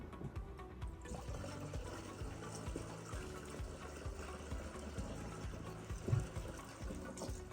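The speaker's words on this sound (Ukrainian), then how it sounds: "Доводимо до потрібного об'єму, доводимо кількість води." Water pours into a fungicide spray mix of Medyan Extra and Topsin-M to bring it up to volume before treating apricot trees, a close, continuous trickling fill with a soft splash near the end.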